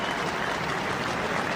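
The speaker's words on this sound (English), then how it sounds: "they will take the applause of the Scottish tunnel and return the favour" A stadium crowd at Murrayfield applauds after a rugby test match between Scotland and the All Blacks, a dense, even roar of clapping filling the whole moment without a break.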